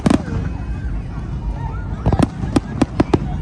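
Fireworks burst outside a house in Qatar, a series of sharp distant cracks and pops arriving in irregular clusters over low rumbling background noise, with faint voices nearby.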